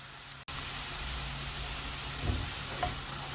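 Steady broadband sizzle of onions frying in a pan, continuous and close, with a couple of faint clinks near the end.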